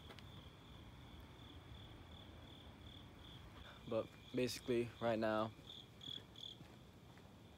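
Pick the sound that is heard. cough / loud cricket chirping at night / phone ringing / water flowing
loud cricket chirping at night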